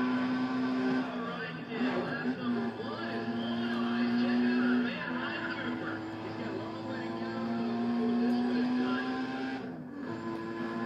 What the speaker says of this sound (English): you can literally hear the car revving up